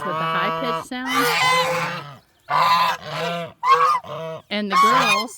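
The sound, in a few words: male guinea fowl keets making high-pitched calls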